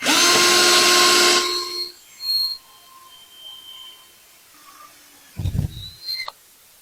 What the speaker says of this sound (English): I'm going to drill 4 holes